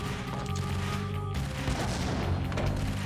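A grenade blast in the video game Max Payne, a dense booming rumble filling the whole moment under layered game sound, with a sharp break partway through and no talk.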